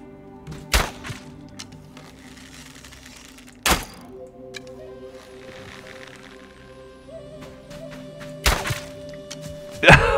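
Sharp thunking impacts from headshots in the Soulmask survival game, three or four hard hits spaced a few seconds apart over quiet game ambience and tonal hum, loud and close.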